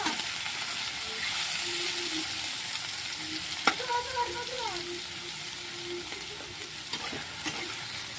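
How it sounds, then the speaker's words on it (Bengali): Vegetables with turmeric being stirred in a frying pan, a steady close sizzle broken by the scrape and knock of a utensil against the pan, with a few brief tonal clinks. "আস্তে আস্তে নাড়তে থাকবো যাতে না পুড়ে যায়"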